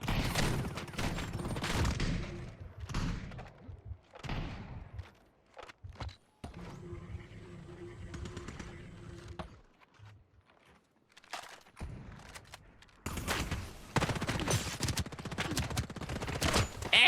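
A heavy-recoil gun in the shooter game Ascendant fires in rapid automatic bursts. Loud clattering volleys are split by short pauses and a quieter stretch of ambient game noise.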